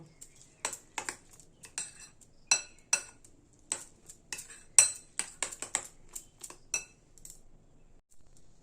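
A spoon clinks and scrapes in a bowl, mixing puffed rice (murmura) with curd thinned in water into pancake batter: a string of sharp, close metallic taps and scrapes, uneven in rhythm, with no talk.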